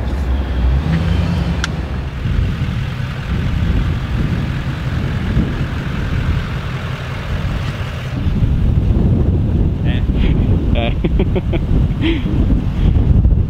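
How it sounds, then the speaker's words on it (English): Strong wind buffets the microphone outdoors, a loud continuous low rumble and roar that persists for the whole stretch and grows slightly rougher toward the end, with faint voices briefly audible. "So fucking windy."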